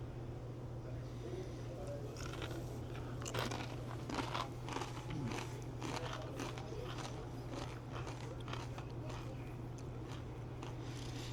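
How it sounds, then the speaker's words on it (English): Thick tortilla chips dipped in salsa crunch in a steady series of crisp bites over about eleven seconds, fairly faint beneath a constant low hum in a lunch setting, with no talk heard. "the chip is a really thick chip. You know, I like the crunch of them"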